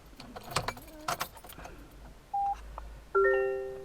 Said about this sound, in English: let me start the car and show you the dashboard